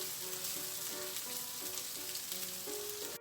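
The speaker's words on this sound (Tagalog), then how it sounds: "Isi-simmer natin siya ng at least 2 minutes or hanggang sa maluto yung ating luncheon meat." Luncheon meat simmers and sizzles in a pan, a steady soft crackle and hiss with small pops, quiet and constant, with no talking.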